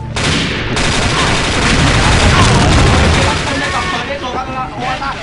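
Gunfire and grenade explosions in the online shooter game Xshot, a dense, loud, continuous barrage of rapid shots and bursts with a commentator's voice running underneath.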